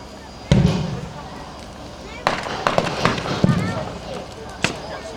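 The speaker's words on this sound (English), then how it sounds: "the Germans are continuing to offer support, suppressing fire." Suppressing fire in a staged WW2 battle at the Bovington Tankfest 2009 reenactment: a handful of sharp, separate shots ring out at moderate distance beneath steady live commentary.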